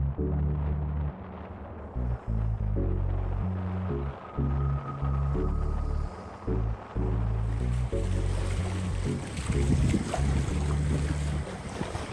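An Outremer 55 catamaran sailing in about 9 knots of wind at 7.5 knots, giving a steady close rush of water and hull noise with wind buffeting the microphone, broken by a few short dips and swelling louder near the end.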